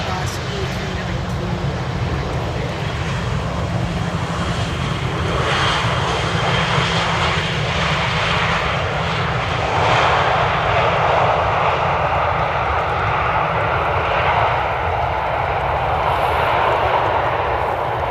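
An Airbus A380 arriving at Amsterdam Schiphol's Polderbaan runway from London gives a loud, steady jet roar that slowly thickens and rises across the whole stretch, with no breaks.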